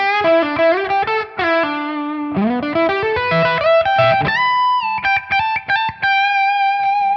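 A distorted electric guitar plays a lead line through a Tonex amp model: fast picked notes, slides and bends, then longer sustained notes with sharp, loud, clear attacks and no other sounds.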